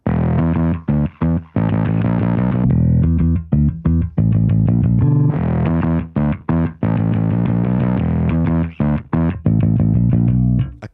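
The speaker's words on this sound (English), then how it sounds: "if we listen to it in solo with and without the fuzz," Solo electric bass line run through the Safari Pedals Cobra Fuzz plugin, loud and continuous with gritty, saturated distortion, switching between fuzzed and clean passages with short gaps between phrases.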